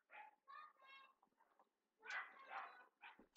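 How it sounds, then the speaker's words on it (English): Dogs barking outdoors in short bursts, a few barks close together then a louder cluster, with yips and whimpers mixed in, heard from inside through open windows. "Apparently there are children and dogs outside."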